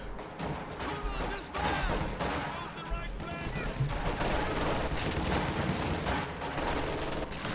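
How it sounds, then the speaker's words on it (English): An incendiary artillery barrage in the real-time strategy game Company of Heroes rumbles and crackles as a steady, dense wash of impacts and fire lasting several seconds, fairly subdued in level. "In comes an incendiary artillery barrage."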